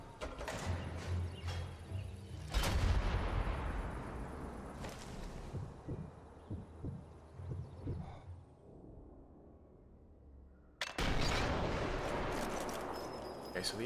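Gunfire from the video game Sniper Elite 4, with a few sharp shots and booms over a busy game soundscape, a big blast near the start and another loud burst late on.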